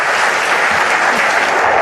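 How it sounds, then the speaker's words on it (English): A conference crowd at BSides Nashville 2017 gives loud, sustained applause for the keynote speaker after her infosec mental health talk, a dense unbroken roar of many hands clapping close by, with no voices over it. "Give her another round of applause."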